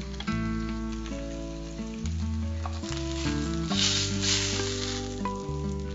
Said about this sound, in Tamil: இப்ப நல்லா ஃப்ரை ஆயிடுச்சு.